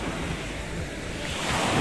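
Sea waves wash steadily onto a beach of stones and sand at dusk in Alakhadzy, Abkhazia, a continuous close surf roar with wind noise and no talk.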